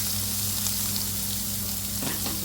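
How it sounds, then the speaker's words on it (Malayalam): Cabbage, onion, green chilli, curry leaves and salt fry together in a pan, giving a dense, even, continuous sizzle close by, with a brief stir near the end. "കേബേജ് ഇട്ടിരിക്കുകയാണ് ഇത് സവാളയും കേബേജും പച്ചമുളകും കറിവേപ്പില ഉപ്പ് എല്ലാം ചേർത്ത് വെജിറ്റേബിൾ ഉണ്ടാക്കുന്നത്"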